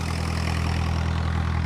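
Engine-driven water pump drawing water to irrigate watermelon, a steady close idling chug with a low throbbing drone throughout, alone.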